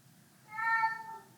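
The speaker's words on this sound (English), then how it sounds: "he panics and he starts meowing" Teddy, a house cat, lets out a single clear meow, rising and falling over about a second, close by and fairly faint against a quiet low hum.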